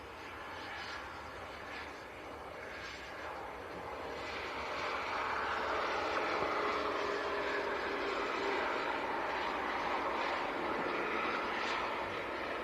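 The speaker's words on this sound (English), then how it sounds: "Here comes the Phenom. Yeah, in from Florence," An Embraer Phenom jet taxis in at Leeds Bradford Airport, its engine whine building from moderate to louder and holding steady. It is heard from a distance outdoors, with no talk over it.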